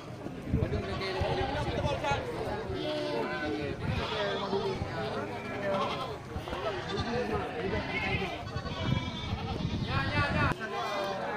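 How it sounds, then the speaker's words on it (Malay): Male and female goats and sheep bleat repeatedly amid a busy crowd, with people talking and murmuring throughout a noisy outdoor livestock market in Indonesia. "ini juga terlihat kumpulan kambing jantan dan kambing betina"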